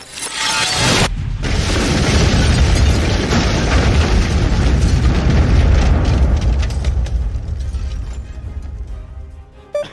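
A loud bomb-like explosion in the video game Paladin of the Sky, a sharp burst followed by a long, dense rumbling roar that slowly fades, with a small pop at the very end.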